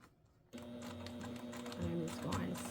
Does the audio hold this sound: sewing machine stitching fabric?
yes